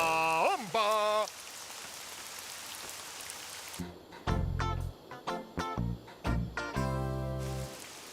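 Cartoon rain falling after a rain dance in a Lucky Luke episode, a steady hiss of rain over a full scene with brief cartoon voices and musical hits layered on top.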